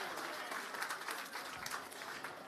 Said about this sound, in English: Please, everyone, make a round of applause as he comes to the stage